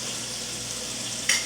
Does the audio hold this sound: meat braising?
yes